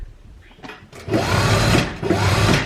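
A sewing machine stitching a doubled-over hem on a young girl's frock, running in two sustained whirring bursts with a brief pause between, loud and close with faint handling sounds at the start.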